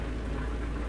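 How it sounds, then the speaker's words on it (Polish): Heavy, steady rain in Euro Truck Simulator 2 hisses loudly and continuously, a dense wash of downpour with a deep rumbling undertone. "No ale deszcz okropny."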